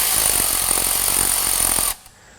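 A socket tool spins a nut off on a 2022+ Ford Maverick during an LED bar wiring install: a loud, rattling, buzzy power-tool run of about two seconds that cuts off abruptly into near silence.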